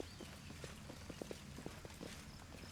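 Horse hooves clip-clopping at a walk in the fantasy video game Pathfinder: Wrath of the Righteous, a soft irregular run of light thuds over a muffled game background.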